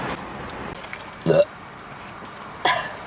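A girl burps twice, two short throaty eructations about a second apart, close and fairly loud over a quiet room background.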